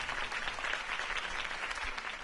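Crowd applause erupts after a campaign speech in the Batman Telltale video game, a steady wash of clapping from a large audience sustained evenly throughout with no voices.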